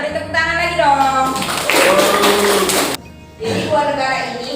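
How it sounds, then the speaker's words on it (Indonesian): A classroom audience claps hands together, a dense burst of loud applause that rises under a teacher's speech, then breaks off briefly before the talk carries on. "beri tepuk tangan lagi dong."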